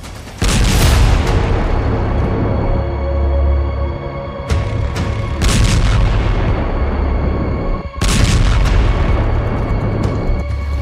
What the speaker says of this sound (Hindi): बेरूत में भीषण धमाके